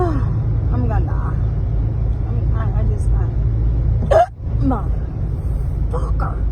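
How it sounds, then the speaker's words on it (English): Someone hiccups repeatedly while driving, sharp gulping spasms spaced between speech over the steady low rumble of a car interior. "I'm screwed with the hiccups right now."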